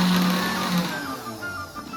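A kitchen mixer grinder whirs as it grinds ingredients for thagathe soppu ambade fine, a steady motor drone that shifts pitch as the load changes, close and alone.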